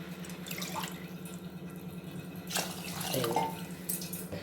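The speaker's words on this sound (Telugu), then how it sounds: "దీంట్లో ఒక రెండు గ్లాసులు వాటర్ పోసేద్దాం చూడండి" Two glasses of water run and splash steadily into dosa batter in a container for several seconds, a close liquid pour with a brief louder gush near the end.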